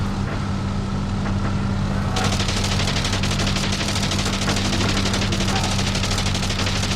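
Sustained rapid machine-gun fire from a plane on a strafing run in the flight game Wings Remastered, loud and continuous over a steady droning aircraft engine, with the bursts growing denser partway through.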